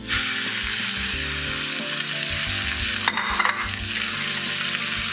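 Ground meat tossed into a pan of frying onions and carrots gives a loud, steady sizzle, with low scraping of a spoon stirring and a brief clatter near the end.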